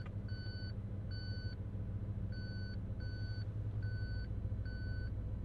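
A McLaren 720S's parking sensors beep in short, evenly spaced pairs over a low engine rumble, clear and close.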